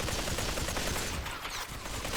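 Rapid gunfire in the VR shooter Population: One, a dense continuous rattle of shots with no pauses, loud and close.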